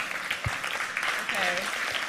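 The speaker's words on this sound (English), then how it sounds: "You probably shouldn't be applauding that" Conference audience applauding at a hacker congress talk on cybernetics and body modification, a steady wash of clapping with a brief voice or whoop passing over it midway.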